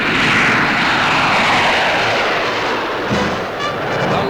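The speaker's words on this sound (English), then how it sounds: "America's fastest planes taxi for the takeoff" P-80 Shooting Star jet fighters taxi for takeoff on an airfield, a loud steady jet engine roar filling the whole stretch with a brief rising whine near the end, no voices.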